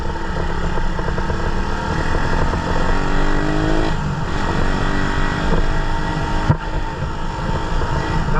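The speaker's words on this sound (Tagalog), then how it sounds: "Iba yung tunugan ng new build na to." A custom-built motorcycle engine runs steadily and loud throughout, a continuous close idle with a brief dip near the middle and a short sharp blip near the end, no talk over it.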